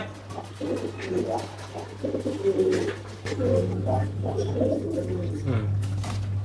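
Pigeons coo repeatedly at close range in a pigeon loft over a steady low hum, with a person's voice mixed in.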